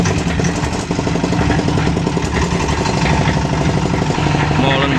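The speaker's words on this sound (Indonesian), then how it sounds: "Mesin menggunakan R175, dongpeng R175 masih sangat polos." An Iron Globe 350-liter concrete mixer runs on its Dongpeng R175 single-cylinder engine, which chugs loudly and steadily close up with a dense, rapid clattering rhythm throughout.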